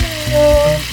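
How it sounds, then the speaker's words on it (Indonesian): Banana fritters (goreng pisang) frying in hot oil at a campsite near Merapi, giving a steady sizzle with a faint tonal hum over it, moderately loud and close. "Ini goreng pisang."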